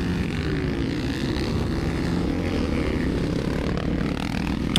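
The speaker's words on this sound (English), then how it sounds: "Let's ride our dirt bikes, brothers." Dirt bike engines at a motocross track during open practice, a steady, loud, droning roar with no breaks and no talk.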